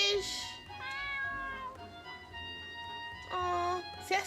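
A cat in the video game A Mystery in the Mist gives several clear, tonal meows, one short, one longer and drawn out, then another pair near the end, close and loud over a faint game backdrop.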